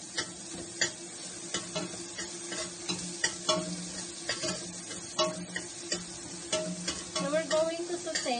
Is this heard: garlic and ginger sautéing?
yes